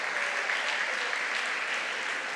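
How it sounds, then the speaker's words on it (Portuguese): A church congregation applauding: steady, dense clapping from many people that fills the whole stretch without a break. "Uma salva de palmas."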